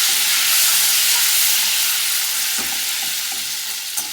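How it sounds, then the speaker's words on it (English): Lemon and pasta cooking liquid is whisked into a hot frying pan, giving a steady, close sizzling hiss with soft stirring scrapes that eases slightly toward the end, a small clink near the finish. "take that reserved liquid from cooking the lemons and the pasta and whisk it in"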